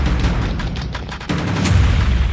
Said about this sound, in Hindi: लोगों ने भी खूब फायदा उठाया, जमकर पटाखे चलाए।